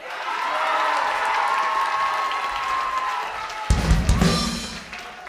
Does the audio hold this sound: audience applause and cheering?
yes